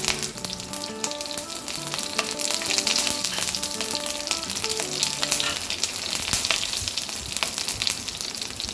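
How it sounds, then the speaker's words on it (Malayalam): Loud, steady sizzling of green chillies frying in hot oil with mustard seeds, with crackles and pops throughout and no talking. "പച്ചമുളക് ഇട്ട് കൊടുക്കുക"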